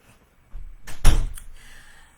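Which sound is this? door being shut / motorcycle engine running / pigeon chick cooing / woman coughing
door being shut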